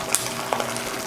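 Boiling hot water poured over a batch of freeze-dried green beans in a dish, a brief pouring splash with sizzle-like crackle and a few small clinks, close and fairly loud with no talk.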